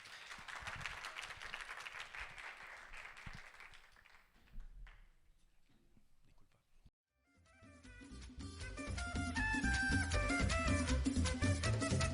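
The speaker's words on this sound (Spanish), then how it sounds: "un fuerte aplauso a los chicos" Audience applause for students after a theatre performance, a dense wash of clapping that fades into near silence before loud music begins.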